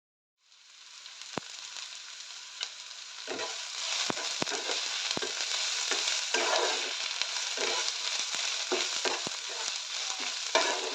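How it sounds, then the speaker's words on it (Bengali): Onions fry slowly over a low flame for a flattened-rice pulao, with cumin going into the pan, giving a steady sizzle with sharp scraping stirs and clicks throughout. It is close and continuous, with no talking. "ধীরে ধীরে পেঁয়াজটা এখন ভেজে নিচ্ছি"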